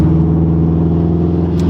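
2016 Subaru WRX STI on a full straight-pipe exhaust with a catless downpipe, its engine holding a loud, close, deep rumbling drone with a steady burbling pulse throughout the short stretch.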